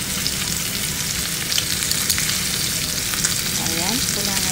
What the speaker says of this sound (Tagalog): sa pressure cooker natin, ilagay na natin itong bawang at sibuyas.